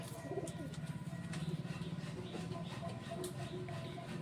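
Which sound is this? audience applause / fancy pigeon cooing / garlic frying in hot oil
fancy pigeon cooing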